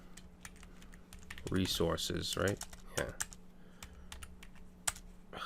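Rapid clicking keystrokes on a computer keyboard while someone talks through coding a Laravel PHP project, the keys clattering in quick bursts under and between his speech.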